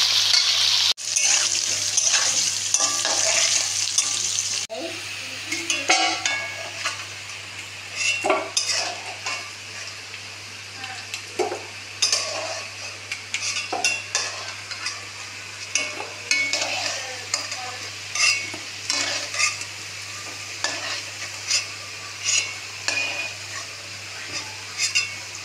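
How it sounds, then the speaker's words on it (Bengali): Potatoes frying in a pan while being stirred to brown them, a steady close sizzle with repeated scraping and clinks of the spatula against the pan throughout. "আলুটা লাল লাল করে ভেজে নেবো"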